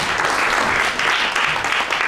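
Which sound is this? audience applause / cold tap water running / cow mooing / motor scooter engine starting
audience applause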